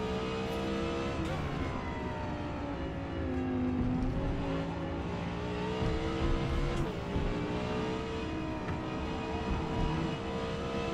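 A supercar's racing engine in Forza Motorsport drones steadily at high revs, its harmonic whine rising and falling slightly as gears shift, loud and continuous with no talk over it.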